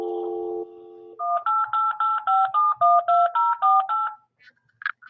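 Telephone dialing to the Microsoft product activation line: a dial tone, then a quick, even run of about ten touch-tone beeps, followed by faint clicks as the call connects, clear and close.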